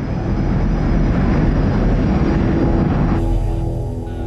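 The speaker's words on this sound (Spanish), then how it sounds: "el vuelo 427 de US Air se acerca a Pittsburgh." A US Air flight 427 airliner approaching Pittsburgh sounds as a loud, steady roar of aircraft engines, close and continuous, easing slightly near the end.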